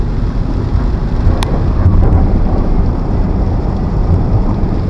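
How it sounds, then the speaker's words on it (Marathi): Heavy rain pours onto a flooded road in a loud, dense, unbroken roar with a low rumble beneath, close and continuous with no voices. "जबरदस्त पाऊस सुरू आहे इकडे"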